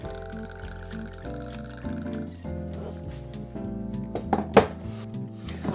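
Bombay Sapphire gin pours into a metal jigger at a home bar, a soft close trickle with light clinks of glass and metal over a faint background hum.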